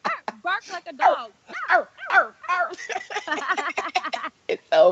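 A person imitates a dog barking with repeated rapid woofing yelps and whimpering barks in a broken, uneven rhythm, close and loud, with no other sound around.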